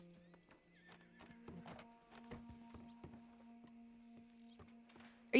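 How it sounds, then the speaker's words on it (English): A horse in the RedM video game whinnies while hooves clip-clop at a walking pace, moderately near over a steady low ambient hum, with a sudden thump at the end. "There's 2 horses right outside."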